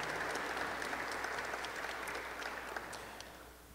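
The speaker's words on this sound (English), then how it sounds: "Please give her a round of applause" Applause at an introductory press conference for a women's basketball coach, a soft, steady patter of clapping from a small room audience that slowly fades toward the end.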